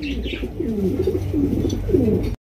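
Pigeons coo softly and repeatedly nearby at a pigeon farm, their low rolling calls overlapping against a faint background hum.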